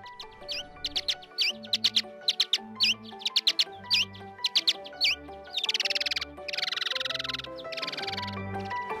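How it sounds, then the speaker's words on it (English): Slowed-down vocalizations of a Brazilian free-tailed bat, a patterned song of rapid chirp clusters and descending sweeps over low pulsed tones, repeated in rhythmic phrases, clear and isolated with no talking. "when the vocalizations of the Brazilian free-tailed bat are slowed down, its singing ability becomes apparent"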